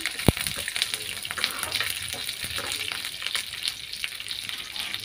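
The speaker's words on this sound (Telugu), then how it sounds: "అలాగే దీనిలోనే ఎండుమిర్చి కూడా వేసేసుకుంటున్నామండి." Dry red chillies frying in a pan while making spicy karam podi, a constant bright sizzle with a sharp crackle near the start and light stirring scrapes, no talking.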